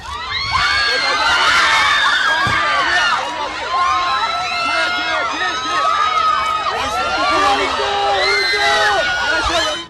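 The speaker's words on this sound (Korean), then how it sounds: "끝을 모르고 높아지는 팬들의 함성" A large crowd of fans at the Blue Dragon Film Awards red carpet erupts into loud, continuous screaming and cheering as a star arrives, with high-pitched shrieks layered throughout.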